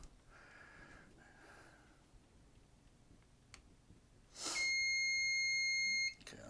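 A Solax scooter controller being programmed gives one sustained electronic beep after a near-silent stretch with faint ticks and taps; the tone is clear and fairly close before cutting off.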